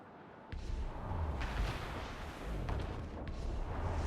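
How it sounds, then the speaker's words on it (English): Ship mortar fire in Assassin's Creed: Rogue, loud rumbling booms rolling one into the next over a dense low roar of naval battle, with a few sharp cracks standing out. "Mortars and heavy shot are insane."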